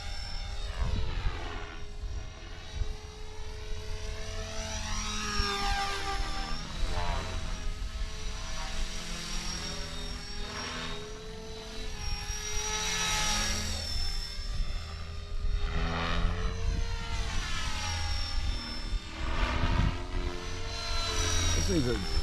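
A Blade 330X radio-controlled helicopter flies fast outdoors, its whining rotor and motor pitch steadily rising and falling as it swoops back and forth for over twenty seconds.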